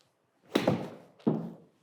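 A golf wedge strikes a golf ball, giving two short, solid thuds a fraction of a second apart, close and fairly quiet against silence.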